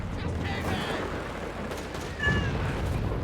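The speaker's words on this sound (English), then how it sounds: "Basil meows." A cat named Basil meows in short tonal calls over a dense, noisy game soundscape of a Company of Heroes 3 match, with gunfire and battle rumble underneath.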